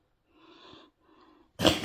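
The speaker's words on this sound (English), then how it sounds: "A big old cough." Two soft breathy rasps, then one abrupt, loud, harsh cough close to the microphone.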